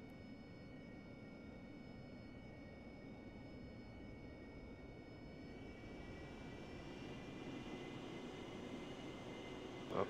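Aircraft engine idling and taxiing in the flight simulator DCS World, a faint, steady jet drone with thin whining tones that swell slightly toward the end, no talk.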